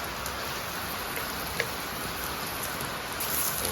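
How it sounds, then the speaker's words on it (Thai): Steady rain falling outdoors during a meal in a Shan-style kitchen, an even close patter with a single sharper drop tap midway. "ฝนตก"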